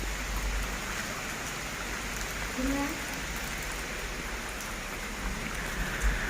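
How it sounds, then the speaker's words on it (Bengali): Light rain falling outdoors after a long heatwave, a soft, even patter and hiss spread across the whole stretch, fairly faint and steady with no clear voices. "বৃষ্টি হালকা হালকা পড়ছে"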